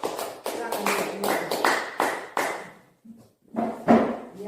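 A group claps together in short rhythmic bursts during a positive school culture dissemination session, fairly close, followed by a pause and a final louder round.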